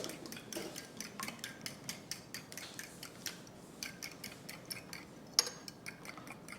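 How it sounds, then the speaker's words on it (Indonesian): Egg whites and yolks are whisked together in a bowl, giving quick, light, rhythmic clicking strokes of the whisk at a soft, close level with no voices. "Kita kocok asal saja putih telur dan kuning telur."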